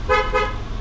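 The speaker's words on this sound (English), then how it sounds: "Horn works." A 2010 Chevrolet Impala 9C1 horn gives two short blasts in quick succession, close and loud, with a steady low hum running underneath.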